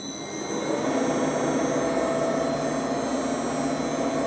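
An Enco milling machine spindle runs under a variable frequency drive after a retrofit, giving a steady, loud, even whine and whir that ramps up briefly at the start and then holds constant, close by and without talk.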